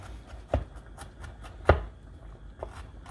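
A knife chopping garlic back and forth on a board: three sharp, distinct knocks over a low scraping.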